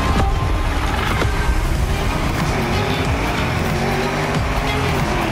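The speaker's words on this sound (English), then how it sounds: "I'm driving a Urus" A Lamborghini Urus SUV driving in the racing video game The Crew Motorfest, a loud, continuous engine drone with tire noise that stays steady and close throughout.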